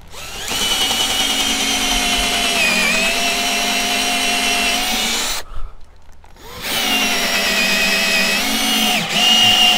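Craftsman 19.2V cordless drill on a DeWalt 20V battery adapter, drilling at low speed with a 1/2-inch bit: a loud, steady motor whine that stops for about a second, then resumes.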